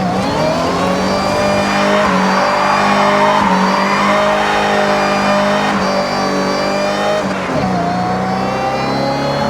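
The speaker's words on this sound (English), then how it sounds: "All you hear is the supercharger." A supercharged car engine in Forza Horizon 6 revs hard, its loud supercharger whine layered over a deep, Hellcat-like growl that holds steady with small dips between gear changes.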